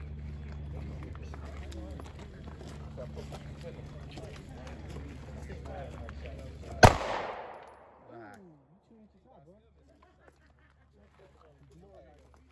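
A single loud gunshot cracks out and echoes away, with faint distant shots and talk before it.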